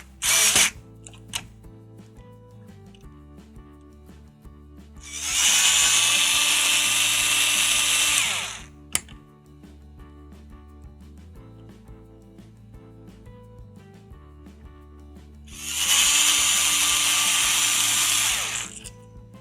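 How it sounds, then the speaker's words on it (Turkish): A power driver removes screws from a PVC window handle. Two loud whirring bursts of about three seconds each are separated by quiet clicks and handling noises. "Vidalarımızı tornavida yardımıyla veya vidalama yardımıyla"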